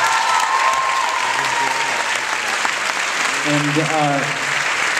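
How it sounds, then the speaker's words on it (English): An audience at a film Q&A breaks into a big round of applause, dense and close clapping that fills the room, while a voice briefly speaks over it. "So give them a big round of applause."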